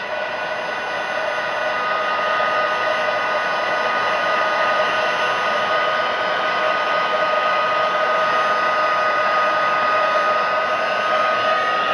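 A heat embossing tool blows hot air steadily over a Stampin' Up! card, a continuous close whirring hiss that runs evenly without pause.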